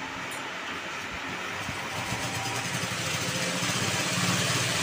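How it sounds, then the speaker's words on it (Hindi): A sewing machine runs steadily, stitching elastic onto a party-wear skirt waistband, a continuous close motor whir with a faint rapid rhythmic chatter throughout. "देखिए इलास्टिक पे मैं सिलाई लगा दूंगी।"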